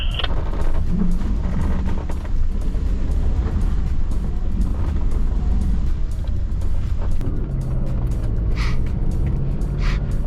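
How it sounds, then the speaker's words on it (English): A car drifting on a wet, slippery clay track in the Otways gives a steady, loud, rumbling roar of engine and tyres. Muddy spatter and wheel noise continue throughout with little change, and no voices are heard. "I'm drifting around. I'm cleaning the mud out of my tyres."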